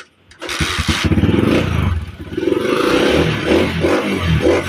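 A Yamaha Mio MXI scooter that will not run, its engine turning over and sputtering loudly in rough, uneven bursts up close, with clattering and thumping as it tries to start.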